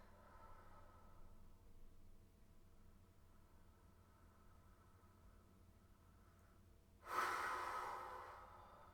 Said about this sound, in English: Nice audible breaths.